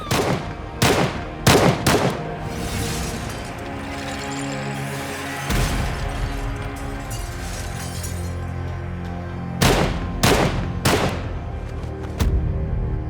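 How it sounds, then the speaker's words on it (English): Four gunmen open fire in a room in a staged mob hit, loud bursts of gunshots in clusters with shattering impacts and crashes, rapid overlapping shots repeating across the scene with no talking. "Without warning, 4 gunmen burst in and begin shooting."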